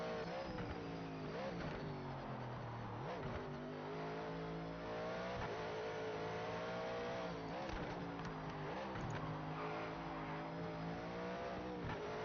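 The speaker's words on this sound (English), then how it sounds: "So now I'm driving the car." A race car engine roars continuously in the video game Project Motor Racing, revving up and down through gear shifts with occasional tire squeals, loud and steady throughout like game audio.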